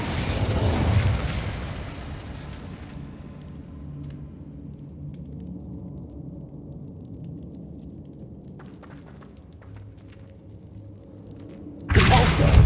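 An Incendio fire spell cast in Hogwarts Legacy bursts with a loud fiery whoosh that fades into a low rumbling crackle, then another sharp burst erupts at the end.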